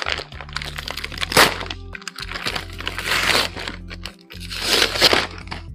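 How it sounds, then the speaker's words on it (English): Plastic H&M clothing packages being torn and opened crinkle and crackle up close in irregular bursts, with no talking. "The only noise I don't mind is of opening all of these packages"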